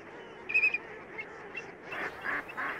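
Migrating geese and ducks call at a staging wetland, giving a few faint, distant honks and quacks over quiet marsh ambience.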